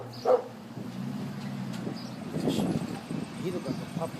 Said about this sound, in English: I gotta be quiet walking past this dog right here.